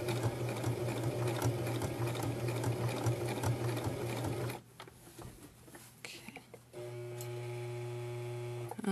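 A sewing machine stitches fabric with a fast, steady, rhythmic whir for about four seconds, then stops. Quieter handling noises follow before a steady motor hum returns, all fairly close.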